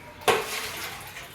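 Dishes and pots clatter in a home kitchen after a meal: one sharp close clank, then a short ringing, rattling tail with no talk.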